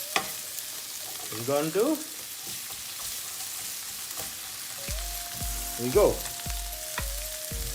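Sliced onion frying in a pan, a steady soft sizzle running throughout with occasional stirring, while a person talks over it and a few short beeps sound near the end.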